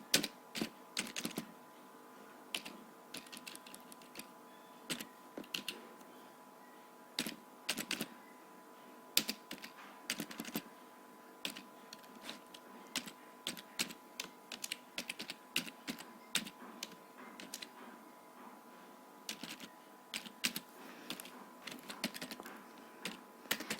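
Fast typing of VHDL code on a computer keyboard, a steady stream of close, crisp key clicks in irregular bursts with no voices.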